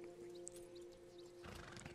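A horse in the Western game Red Dead Online, near Braithwaite Manor, gives a faint neigh followed by a short burst of hoof clip-clops and shuffling, heard quietly over a steady tonal background hum.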